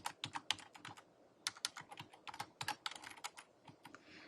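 Quick, light keystrokes on a computer keyboard come in uneven bursts with short pauses, close and fairly quiet, with no talk over them.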